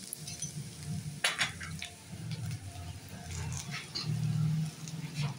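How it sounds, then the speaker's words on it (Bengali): Semolina is tipped into a frying pan and stirred, giving a quiet sizzle with soft scraping strokes, light patter and small utensil clinks, swelling slightly louder near the end. "এবার আমি সুজিটা দেবো।"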